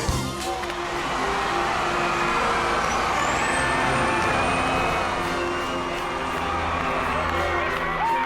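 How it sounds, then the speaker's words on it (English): A bus pulls away in front of a rebuilt firehouse in Sabine Pass, with a steady engine rumble and a faint hiss. A cheering crowd keeps up a continuous roar around it throughout. "Move that bus!"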